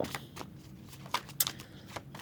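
Tarot cards are shuffled by hand in a quiet room, a series of soft, quick riffling flutters and taps with brief pauses between them, close and alone.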